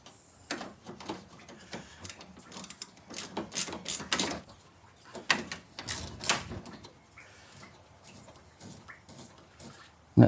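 Radiator bolts (12 mm) being undone on a 2009 Subaru Outback 3.6L, heard as irregular bursts of quick mechanical clicking and ratcheting with pauses between, fairly close.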